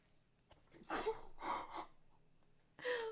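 A person sneezes with a sharp gasping intake followed by bursts of breathy expulsion, close and fairly quiet, then another breathy sound trails after.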